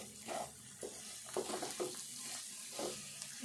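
Dried fish curry being stirred in a pan with chili powder, soft scraping strokes in a rough rhythm over a quiet steady sizzle, close and faint.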